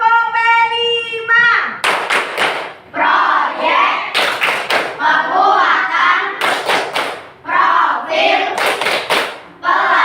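Classroom children perform the Pancasila student profile clap chant in Indonesia, singing in unison, with sharp bursts of clapping repeated in regular groups between chanted phrases, loud and close.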